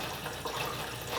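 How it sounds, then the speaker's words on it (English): A reverse osmosis faucet under a sink runs as its storage tank drains, giving a steady, moderate hiss of flowing water with no break. "so we're going to open up the faucet, and we're going to let that tank drain out."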